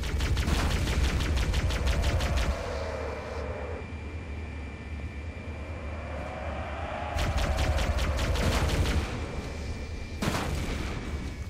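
Rapid bursts of weapon fire in the video game Halo: Combat Evolved, shooting down sentinels from a banshee aircraft, loud repeated volleys over a steady engine hum and electronic tones, with a short pause between bursts.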